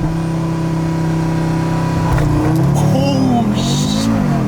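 Audi engine revving hard under launch control, a loud, steady drone heard from inside the car that climbs in pitch as the car pulls away.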